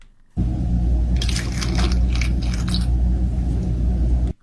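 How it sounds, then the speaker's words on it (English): Milk poured into an iced latte over ice cubes, a steady close liquid rush with crackling, clinking ice lasting about four seconds before stopping abruptly. "Pouring milk into an iced latte."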